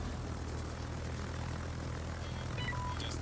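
Aircraft engines droning in World of Warships naval combat: a steady, fairly faint propeller hum throughout, with small chirping game sounds near the end.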